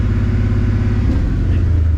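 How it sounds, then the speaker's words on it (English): A Ford Mustang drift car's engine runs loud and close, a steady deep rumble with a slight rise as the throttle is blipped up from idle. "it's idling, and if I rev it up now, the gas doesn't go completely blank"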